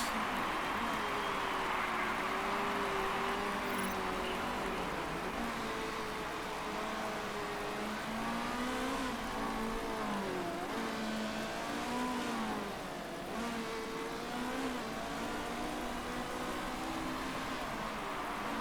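Race cars circling a track in the video game Motorsport Manager, a continuous engine drone with rising and falling revving whines of several cars, steady and moderately loud with no speech.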